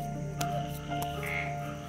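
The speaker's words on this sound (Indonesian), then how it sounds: "jangan ini sama suara kodok" Frogs croaking outdoors at night, a steady chorus of low croaks and a sustained high trill, with a few sharp clicks over the top.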